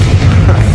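A loud, deep booming blast from the Bombarda spell in Hogwarts Legacy, a short, heavy low rumble filling the moment, with no talking.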